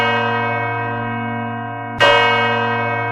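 A large bronze church bell of the Giralda tower at Seville Cathedral tolls, one long ringing tone decaying before a second loud strike blooms out bright and sustained.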